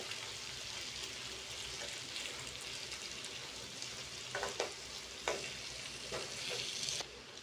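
Potato and tomato curry is stirred in a pan, a soft steady frying sizzle with several distinct spatula scrapes and clanks against the pan in the latter half, fairly quiet overall.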